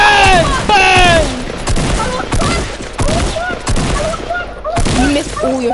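Gunfire from the video game Fortnite, repeated sharp shots spread across the clip and mixed with other game sounds, with voices speaking over much of it.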